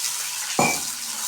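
Water is poured into a hot pan of sautéed onions and curry leaves for rava upma, setting off one sudden loud hiss that fades into a steady sizzle.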